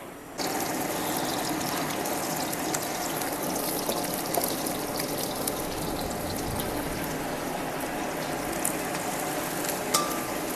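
Chopped onions fry and sizzle in a pan as the base for a spicy chicken pickle, a steady, dense hiss that runs continuously and close-up from start to finish with no talking.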